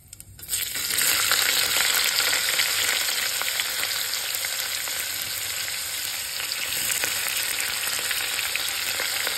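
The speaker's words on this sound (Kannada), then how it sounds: "ಇನ್ನು ಸ್ವಲ್ಪ ಗೋಲ್ಡನ್ ಬ್ರೌನ್ ಬರೋ ಮಟ್ಟ ಫ್ರೈ ಮಾಡ್ಕೊಳ್ಳೋಣ" Chopped onions frying in oil toward golden brown for mushroom pulao, a dense steady sizzle that swells in within the first half second and holds loud throughout, no voices.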